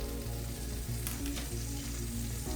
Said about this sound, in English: I'm going to put these carrots in now because it takes them a little longer to cook